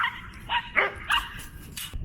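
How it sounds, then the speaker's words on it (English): A lively dog barks in several sharp, close bursts during an outdoor walk on a trail, loud yips and barks spaced irregularly with no talking over them. "And this dog's crazy, so watch him."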